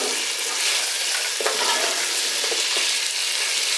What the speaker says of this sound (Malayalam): നമ്മൾ വറുത്ത് വെച്ചിരിക്കുന്ന കറുമുറായിട്ടുള്ള ചിക്കൻ നമ്മൾ ഇതിലേക്ക് ഇട്ട് കൊടുക്കും